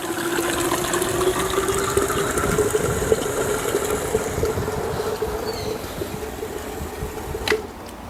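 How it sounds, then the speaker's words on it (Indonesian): A submersible water pump runs steadily while water gushes out in a continuous, even rush with a constant motor hum. A short sharp click sounds near the end, and no one speaks. "saya tunjukkan aliran airnya seperti ini"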